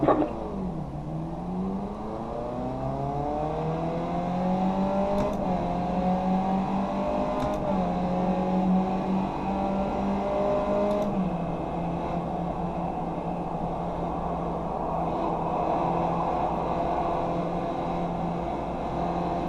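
Race car engines rev and rise in pitch at a race start in the iRacing simulator at Road Atlanta, a strong continuous drone climbing through upshifts with faint clicks, then settling into a steady roar.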